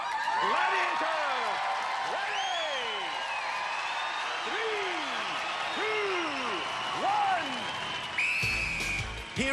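A studio arena crowd at the 1992 UK Gladiators contest roars and cheers continuously, with whoops and applause, under an excited commentator's voice throughout.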